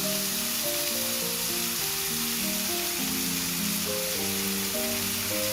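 A chicken steak fries in a pan with a continuous, even sizzle that holds steady throughout, under light background music.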